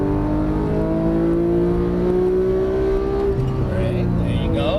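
A Porsche 991 GT3 on a racing circuit pulls hard under throttle, its engine note rising steadily in a loud, continuous tonal wail, then dropping slightly as it eases off near the end; a voice speaks briefly over the engine.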